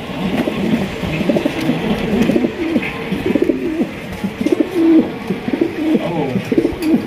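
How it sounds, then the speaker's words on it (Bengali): Lahori pigeons coo in low, repeated throaty rolls, close by and continuous, over a steady background hiss. "লাহোরি কবুতর মাশাআল্লাহ"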